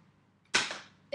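A Nerf blaster fires a dart in one sharp, loud pop with a short airy tail, after a quiet cocking lead-in and a brief follow-on handling sound.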